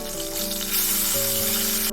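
Loud, bright sizzling of bay leaves and whole spices frying in hot oil, a steady crackling hiss close up with a low hum underneath.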